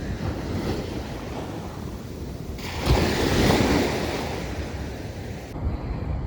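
Sea waves washing onto a Kerala shore, a steady broadband roar with wind buffeting the microphone and a louder surge of surf midway, continuous with no voices.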